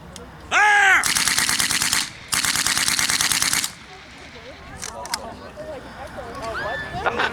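Rifle volleys and sustained automatic gunfire at an outdoor historical weapons demonstration in Didsbury, Alberta, two loud extended bursts of several seconds each, followed by crowd chatter and distant bird calls.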